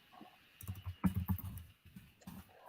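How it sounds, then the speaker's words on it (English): Typing on a computer keyboard in a quiet room, a few soft bursts of key clicks in uneven clusters, fairly faint and close, with no talking. "Let me finish typing this up."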